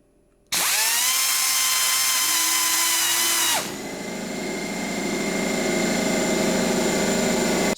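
A high-torque, low-RPM die grinder spins up abruptly to a loud, steady whine, then drops into a rougher, buzzing tone as it bites into work and keeps running to the end.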